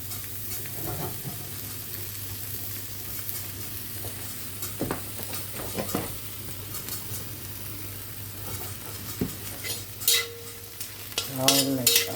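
Garlic and vegetables frying in a pan as chop suey with chicken liver is cooked, with a steady close sizzle and repeated spatula scrapes, and sharper clatter and bubbling bursts toward the end.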